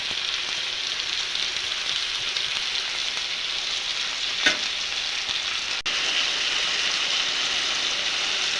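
Potatoes fry in a pan with an even, steady sizzle that holds close and fairly loud throughout, broken only by a faint stir or clink midway.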